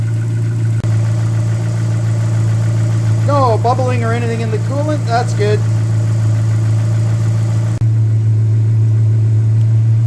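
A Dodge Neon stock car engine idles with a loud, steady low rumble throughout while someone speaks briefly over it.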